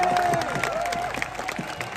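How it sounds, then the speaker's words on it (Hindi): Audience applause greets DGP Kushalpal Singh at a Gurjar festival at the Surajkund fair in Faridabad, a dense, steady crowd clapping that fills the whole moment with a faint tone running beneath it. "मैं चाहूंगा जोरदार तालियों के साथ"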